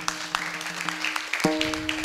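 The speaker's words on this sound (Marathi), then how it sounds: "या एकदा विद्यार्थ्यांसाठी जोरदार टाळ्या वाजवा." An audience at a Marathi kirtan in Tadpangari claps for the students, giving steady rhythmic claps over sustained drone-like instrumental tones for about two seconds, with no talking.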